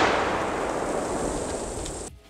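A homemade nail bomb built from a can, nails, blades and explosives bursts outdoors, a loud broadband blast whose rumbling noise decays over about two seconds before cutting off.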